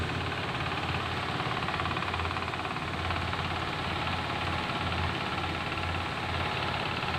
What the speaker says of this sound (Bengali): গাড়ি চলছে ইঞ্জিনের কোনো লোড নেই